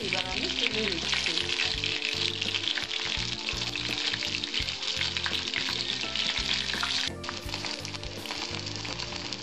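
Banana flower fritters in hot oil keep up a loud, dense, continuous sizzle and crackle, with scraping and stirring clinks as the pieces are lifted out.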